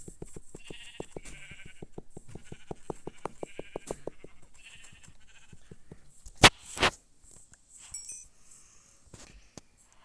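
Sheep bleating in a video game, a rapid series of short repeated bleats over a few seconds, followed by sharper crunching and clicking game sounds, moderately quiet.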